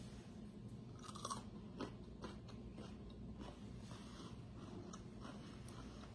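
Close, crisp crunching as a pickle is bitten and chewed, a series of irregular crackly bites over a quiet low background.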